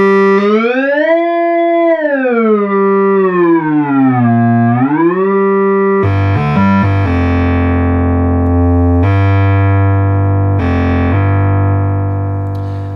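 Moog Micromoog synthesizer, restored after fire damage, holding a sustained tone that the ribbon controller bends up and down in slow swoops, then shifts to a few held notes with a bright attack, loud and alone.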